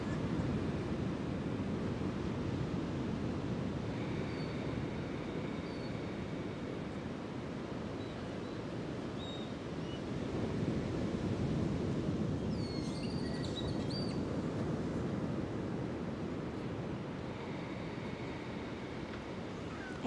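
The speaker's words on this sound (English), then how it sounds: "Internal sound of the ocean within you connects with the external sound of the waves." Ocean waves rumble and wash in a continuous, even roar, with a low surf texture and no clear breaks between swells. A few faint high chirps drift in the background.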